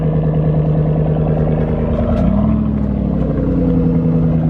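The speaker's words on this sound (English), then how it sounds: "I love the sound of this car" A Ram 1500 pickup truck engine idles steadily with a low rumbling drone at a dragstrip, close and continuous, with a brief slight rise in pitch midway.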